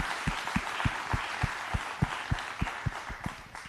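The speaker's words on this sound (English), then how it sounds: "Let's give him a round of applause." Rhythmic clapping at a workshop and expo, about a dozen evenly spaced claps over a soft crowd wash, fairly quiet and distant.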